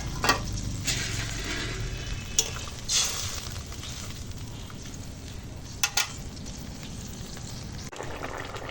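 Steady sizzling and frying in a pan as fried fish goes into a taro curry, with a few brief scraping clicks and a soft bubbling burst, continuous throughout.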